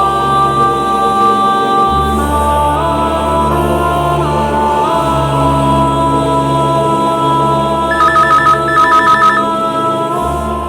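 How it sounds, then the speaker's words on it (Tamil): A telephone rings on the far end of a call in a Tamil TV serial scene: a steady background hum, then short ringing bursts in a repeating pattern near the end. "ரிங் போகுது."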